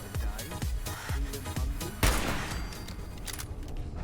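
Gunfire in Fallout 4: a run of evenly spaced shots, roughly one every half second, then a louder blast with a ringing tail, fairly close and unaccompanied by talk.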